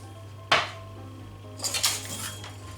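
A fork or whisk rattles and clinks against a bowl as an egg is beaten with salt and pepper. One sharp knock comes first, then a brief flurry of quick scraping taps, close and fairly loud with no voices.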